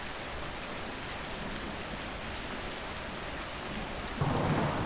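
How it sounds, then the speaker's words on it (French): Heavy, steady rain pours down with a low rumble of thunder beneath it, swelling louder near the end. "Les éclairs zèbrent le ciel et la pluie se met à tomber."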